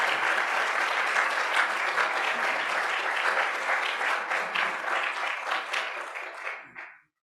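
An audience at a Minneapolis Art Institute lecture applauds steadily to welcome the speaker to the stage, a dense, sustained roomful of clapping that fades out near the end.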